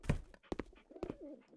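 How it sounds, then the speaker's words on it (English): Pigeons coo in the video game House Flipper Pets, a few soft, close calls with short thuds and clicks mixed in, fairly quiet. "So there's like pigeons or something"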